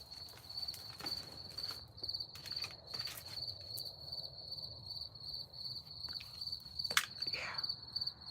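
Crickets chirping at night outdoors, a steady high trill running throughout with occasional louder bursts, fairly faint against low background rumble and a few soft footsteps.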